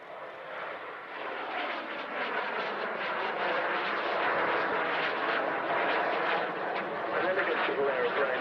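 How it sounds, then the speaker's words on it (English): A BAC Jet Provost Mark 5 jet trainer performs a flying display at the RAF Cosford airshow, its engine roaring steadily and loudly throughout with a broad, sustained whine as it passes. "An elegant little aeroplane, the JP Mark 5, Jet Provost 5."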